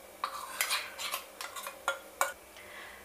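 A spoon gently folds gulkand and paan slurry into a kulfi mixture, making soft scraping and clinking taps against a bowl. Each stroke is separate and close but quiet, and no one speaks.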